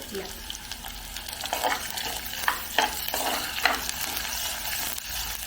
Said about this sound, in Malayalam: ഇതെല്ലാം നല്ലപോലെ നല്ലപോലെ വഴന്ന് വരണം ഇത് ഉള്ളിയും കറിവേപ്പിലയും ഇഞ്ചിയും എല്ലാം മൂത്തു